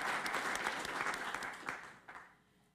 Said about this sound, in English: So let's give them some applause